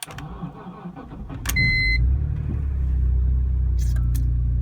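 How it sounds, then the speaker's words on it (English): A BMW M3 starts from cold: starter whir and a brief chime, then the engine catches with a sudden loud roar and settles into a deep, steady rumbling idle, close and alone. "let me just start the engine"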